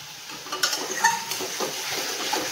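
A utensil stirs very soft leafy greens (saag) cooking in a pan, giving a few light scraping clinks against soft sizzling and rustling, close and fairly quiet.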